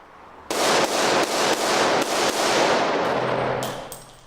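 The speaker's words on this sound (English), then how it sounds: "And in your own time, commence shooting." Rapid volleys of gunfire at a shooting range, loud and close, with repeated sharp shots cracking in quick succession over a few seconds, no talk over them.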